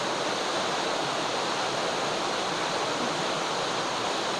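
A waterfall at Wells Gray, British Columbia, pours into a river, giving a steady, dense roar of rushing water that fills the whole moment without a break or any voices.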